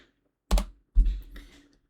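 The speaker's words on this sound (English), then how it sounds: "So I was typing in the wrong ticker." A short burst of typing on a computer keyboard, two quick clusters of keystrokes close up, the second trailing off into lighter taps, with no talk over it.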